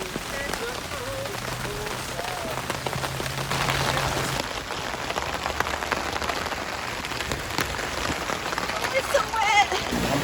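Rain falls steadily on an outdoor surface, a continuous close patter with scattered drops, with a low hum early on and a faint high tone later.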